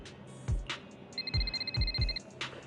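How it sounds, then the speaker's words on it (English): A phone rings in the video game Zenless Zone Zero: a short burst of bright, trilling electronic ringing in the middle of the clip. Soft low thumps and game ambience sound around it, and no one speaks. "The phone rings."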